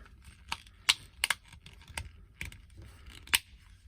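Plastic parts of a Transformers toy figure snap and click together in a quick, irregular series of sharp, close clicks against a quiet background.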